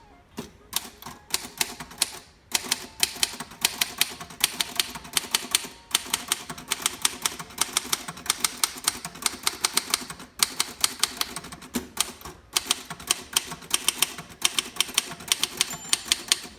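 Rapid, steady clacking of a 1936 Royal Model O manual typewriter, sharp key strikes in a continuous even rhythm with brief pauses, close and fairly loud, no voices.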